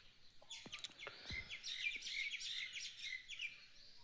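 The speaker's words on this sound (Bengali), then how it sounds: "পাখিদের গুঞ্জন আর এরকম একটা ভ্যালি ভিউ" Birds chirp and tweet steadily in a misty Himachal mountain valley at sunrise, a soft, continuous layer of overlapping calls heard from a distance with no voices.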